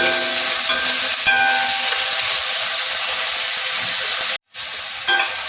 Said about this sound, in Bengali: আর একটু আমি এর মধ্যে নুন দিয়ে দিচ্ছি। এটা একটু ভাজতে থাকি।